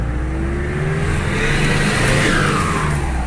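A Frontier pickup's engine revs hard through its exhaust, a loud, continuous mid-range roar with a rising whine that swells and holds across the whole stretch, with no talking over it.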